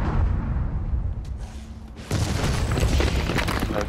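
A heavy cannon blast in DOOM Eternal erupts loud and close after a quieter rumbling stretch, then rolls on as a sustained roaring boom.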